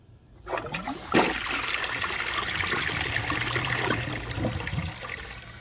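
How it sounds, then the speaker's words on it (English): A 2007 Crane Elite toilet flushes a dish towel: a sudden loud rush of water swirls steadily for several seconds, then begins to taper off, close up and with no talk. "I don't want to bore you guys by flushing a dish towel 100 times"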